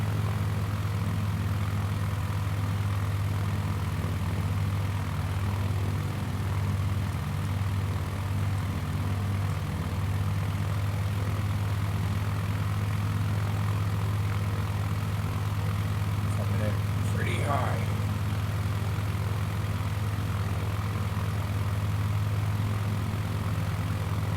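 Steady droning propeller aircraft engine with RPMs lowered in Microsoft Flight Simulator 2020, a constant low hum throughout with a faint voice speaking over it.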